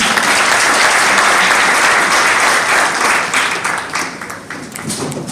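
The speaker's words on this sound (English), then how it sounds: "Can we clap for him, please?" Guests at a graduation party in a Juba hotel clap warmly for the graduate, loud dense applause that gradually thins and tapers toward the end.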